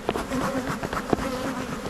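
A dense swarm of honey bees buzzes around a hive, with a continuous hum broken by a few brief taps and individual bees passing close.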